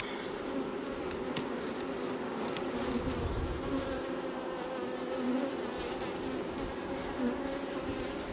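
Honeybees hum in a dense, steady, close drone while brood frames are lifted from the hive to build a new colony, with faint handling sounds underneath.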